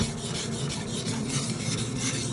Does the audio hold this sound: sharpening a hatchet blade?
yes